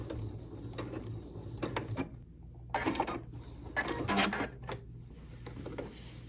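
A sewing machine back stitching a reversible cotton tote bag, quiet mechanical whirring in short runs with brief pauses and small clicks between bursts, close by and faint overall.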